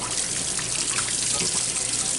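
Water flushes steadily out of an RV hot water tank, a continuous rushing splash of liquid with no break over the moment.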